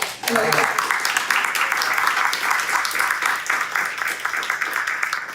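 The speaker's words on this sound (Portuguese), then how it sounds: "vamos aplaudir o Afonso." A crowd claps together in steady, sustained applause at a folk-culture talk, starting abruptly and continuing at an even level throughout.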